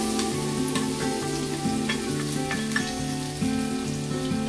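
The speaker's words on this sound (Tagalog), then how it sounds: "Umpisahan na natin ang pagigisa. Maglalagay ako ng olive oil sa mainit na lutuan." Hot olive oil sizzles steadily in a pan, with a continuous frying hiss and occasional stirring clicks, all close and fairly loud, with no talking.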